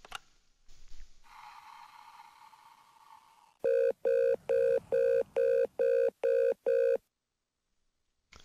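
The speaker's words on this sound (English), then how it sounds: "The phone's ringing." Telephone in the PT house of a horror video game rings in eight evenly spaced loud electronic bursts, each roughly a third of a second, after a quiet hum and a brief tone, then falls silent.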